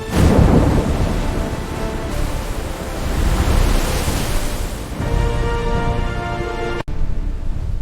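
A thunderstorm roars with heavy, broadband rain and deep rolling thunder. The noise is loud and sustained, swells and eases over several seconds, and has no voices.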